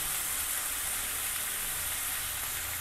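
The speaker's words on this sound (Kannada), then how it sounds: "ಇವಾಗ ನಾನು ಕರಿಬೇವು ಸೇರಿಸ್ತೀನಿ." Curry leaves and onions frying in a pan for a South Indian mushroom palya, giving a steady, even hiss of sizzling oil with no talk over it.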